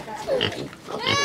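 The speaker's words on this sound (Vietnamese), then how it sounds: "Ở đây bên này rất nhiều lợn đen luôn." Black pigs in an African village grunt close by, a few short, rough calls in quick succession at moderate loudness.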